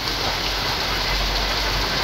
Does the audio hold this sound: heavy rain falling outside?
yes